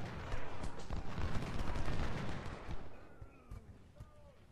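Gunfire in the Civil War strategy game Ultimate General: Civil War, a dense, continuous barrage of musket and artillery shots that rumbles loudly for several seconds, then thins out into scattered reports with faint tonal game sounds.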